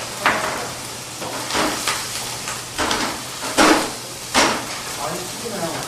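Tomato sauce sizzles and spatters in a hot pan in repeated crackling bursts, with scraping and stirring mixed in.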